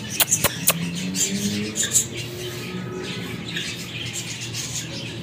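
Chickens squawk and flutter in a backyard aviary shared with finches and doves, a few sharp bursts up front followed by steady scratchy commotion at close range, with no talking.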